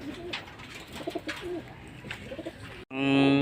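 Racing pigeons coo at a derby loft, soft scattered calls and rustling giving way to a loud, close, steady burst of cooing near the end.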